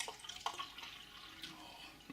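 Milk stout beer is poured into a glass, making a faint, close trickle with small splashes and drips that continue steadily throughout.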